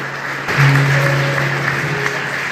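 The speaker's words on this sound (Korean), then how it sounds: "큰 박수로 모셔보도록 하겠습니다" Wedding guests applaud in a hall as the bride's father is welcomed, a moderate, steady patter of clapping over a low hum and a sustained tone that swells briefly early on.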